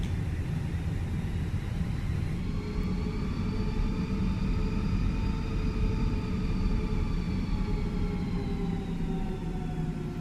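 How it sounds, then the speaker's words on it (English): Airbus A320 jet engines spooling up in the Fenix A320 flight simulator during a takeoff roll, a steady loud rumble with a rising, whining tone sustained throughout. "God, that spool up sound"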